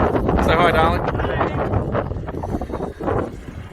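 Strong wind buffets the microphone at the top of a dune in the Simpson Desert, making a loud rumbling roar while people talk underneath.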